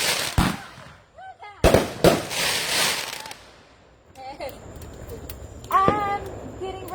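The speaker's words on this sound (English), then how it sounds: "I'm getting rained on by fireworks." Fourth of July fireworks bursting close overhead, with sharp loud blasts and crackling debris falling around, separated by quieter gaps; people talk and exclaim between the explosions.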